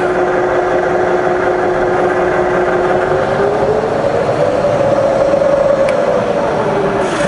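A rebuilt Bridgeport milling machine spindle runs with a loud steady mechanical whir whose pitch glides downward as the speed drops, a continuous close drone with no talking.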